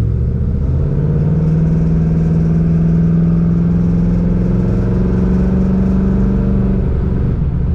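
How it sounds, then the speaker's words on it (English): A 1967 Pontiac Firebird coupe idling steadily, a loud, deep, even engine and exhaust rumble running without a break throughout, with no talk. "Really nice exhaust sound from this car."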